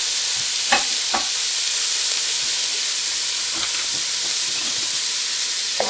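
Onions sizzle steadily in hot olive oil in a pot, a constant close frying hiss with a few brief clinks and stirring knocks.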